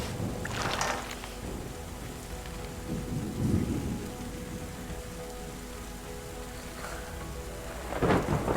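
Rain and thunder in the video game Terra Nil, steady rainfall with low rolling thunder rumbles rising and fading a few times, continuous and moderately loud.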